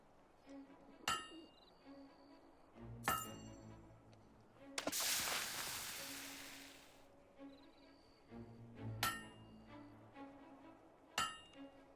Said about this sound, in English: A perfect hammer blow.